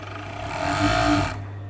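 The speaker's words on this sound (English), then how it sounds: "So we're just overlocking the bottom here." An overlocker stitches along the hem of an unlined jacket in a steady, close, continuous whir that swells briefly mid-run, then cuts off, leaving a low motor hum.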